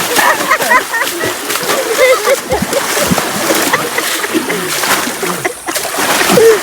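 Water splashing and sloshing in a large homemade swimming pool, broad churning splashes that continue steadily throughout, with children's voices talking over the water noise.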